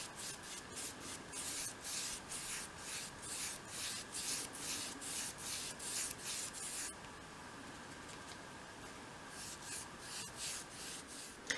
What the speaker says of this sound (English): I shall be applying 2 coats of paint to each piece